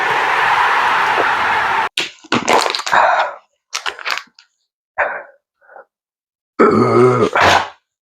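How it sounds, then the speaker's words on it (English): A canned beer is chugged in hard gulps close to the mouth, with a can crackle, a grunt and several bursts of swallowing and gasping that are split by short silences. "I'm gonna chug the rest of this."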